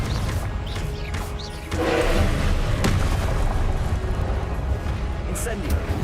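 Confringo spell explosions in the video game Hogwarts Legacy, a dense rumbling blast that swells and sustains with crackling bursts over it, loud and close, mixed with a voice shouting.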